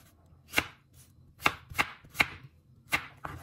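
A bread knife chops through an apple on a board in five or six crisp, separate cuts at an uneven pace, close and clear in a quiet kitchen.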